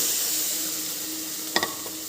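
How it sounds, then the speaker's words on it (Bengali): Sweet-spicy semolina (suji) sizzling in a pan, a continuous soft frying hiss with a couple of quick stirring scrapes and knocks toward the end. "এবার ভালো করে নেড়ে দেবো"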